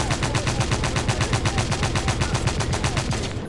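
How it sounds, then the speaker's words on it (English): A World War I machine gun in a video game fires a rapid, even stream of shots, loud and close, with no voices over it. "And that's the machine gun in action."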